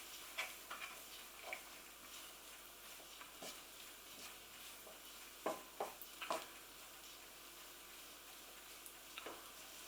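Soft, quiet stirring of couscous in a pot with a few gentle scrapes and clinks of a utensil against the side, over a faint steady background hiss.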